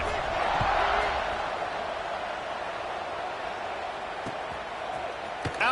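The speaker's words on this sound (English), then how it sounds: "this crowd is feeling themselves after that last drive." Stadium crowd noise from the College Football 26 video game, a steady broad roar of cheering fans during a kickoff between Syracuse and Clemson, continuous and moderately loud with commentary-like voices faint beneath it.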